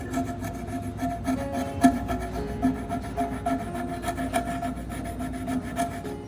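Cotton soaked in vinegar scrubbed against aquarium glass to clear hard water stains, a close, repeated rasping rub in uneven strokes with occasional small knocks, no voices.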